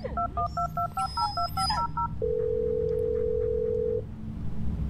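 A telephone in the Blair Witch video game sounds a quick series of about ten dialing tones, then a steady ringback tone holds for nearly two seconds over low room ambience.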